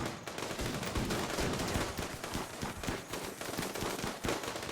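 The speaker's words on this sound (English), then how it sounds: "the shots passing through people will eventually kill a few more" Rapid gunfire from a RimWorld battle among many pawns, dense bursts of shots cracking in quick irregular succession throughout, loud and continuous with no voices.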